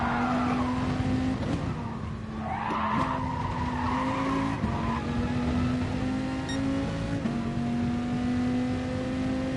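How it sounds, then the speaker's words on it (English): Race car in a racing video game, its engine revving high and steady with a loud, sustained whine, shifting pitch as it accelerates, with tyre skidding mixed in throughout. "It's almost addictive, revving it that high."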